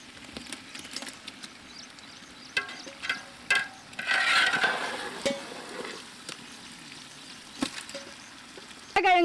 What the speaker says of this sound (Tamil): கிழங்கு வறுத்தாச்சு சாப்பாடு சேர்த்துக்கலாம்.